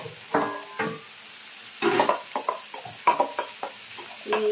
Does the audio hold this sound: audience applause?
no